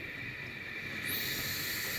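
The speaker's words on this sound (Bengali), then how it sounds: "পেঁয়াজ নাড়াচাড়া করছি" Onions sizzle while being stirred in a pan for a chicken and potato curry, making a steady, fairly loud hiss that swells slightly partway through, with no voices.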